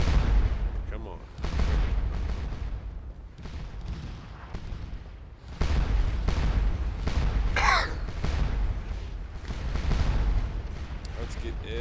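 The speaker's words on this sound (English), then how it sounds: "We've got ourselves plenty of guns in action." Cannon and musket fire roll through a Napoleonic battle in the video game Scourge of War: Waterloo: repeated heavy booms and crackling volleys layered into a dense, continuous battlefield din.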